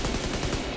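Gunfire in The Division 2 forms a rapid, loud burst of shots in close succession that fills the whole moment with dense, continuous cracks.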